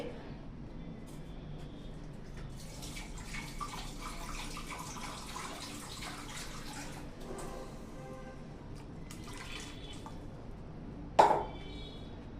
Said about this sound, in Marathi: थोडंसं पाणी याच्यामध्ये मी घालते